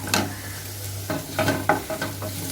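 Water spinach (kolmi shak) frying lightly in a pan, with a steady sizzle and a few sharp stirring clatters near the end, close up with no voices.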